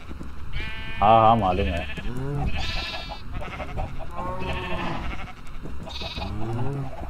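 Black sheep in the Minecraft video game bleat repeatedly in loud, wavering calls, overlapping with a voice talking over them.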